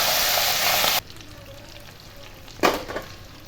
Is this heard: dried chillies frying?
yes